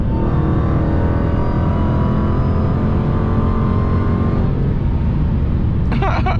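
A Dodge Hellcat's engine roars loudly from inside the car as it accelerates, a deep, steady growl that holds strong before easing off near the end.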